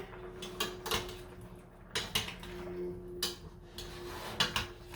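A spoon stirring a shrimp boil in a pot, with repeated clanks and scrapes against the metal coming in uneven bursts, close and moderately loud.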